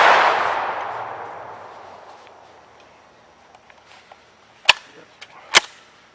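An SAS 12 shotgun fires two sharp, loud reports about a second apart, close by in an outdoor setting, after a long fading rumble and some faint handling clicks, with no talk.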